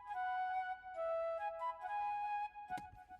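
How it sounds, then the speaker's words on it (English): Solo flute sound for a pluggnb music production beat plays a soft sustained melody of a few held notes, with a brief click near the end. "It's a flute. It sounds like this."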